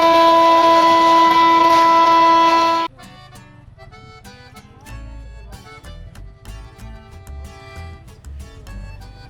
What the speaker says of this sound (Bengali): ঝুমঝুম শব্দের রেলের ছুটে চলা দৃশ্য